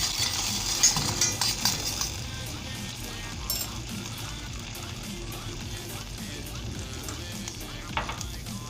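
Pepper and mint being stirred into melted butter in a pan, a soft sizzle with light clinks of a utensil against the pan, close and fairly quiet, the stirring busiest at first.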